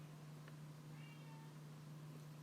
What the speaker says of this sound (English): Might be able to hear my cat in the background.